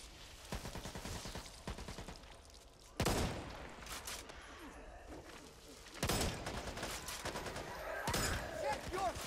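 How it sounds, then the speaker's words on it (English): Repeated automatic gunfire in the zombie shooter Back 4 Blood on a foggy Blue Dog Hollow level, fairly faint, with sharp louder bursts and rattling fire, under a busy game mix. "I tried to shoot through you to kill the zombie"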